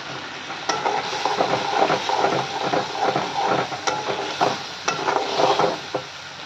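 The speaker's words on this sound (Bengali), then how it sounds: "পনিরগুলো একদম হালকা ভেজেছি" Paneer pieces fry lightly in a pan with a steady soft sizzle, while a spatula stirs and scrapes against the metal in a run of close, uneven clicks and rustles.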